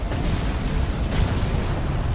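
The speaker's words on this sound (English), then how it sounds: "Explosion!" A loud, continuous explosive roar and rumble from an attack blast in Elden Ring Shadow of the Erdtree during the Messmer boss fight, dense and heavy throughout with no talking over it.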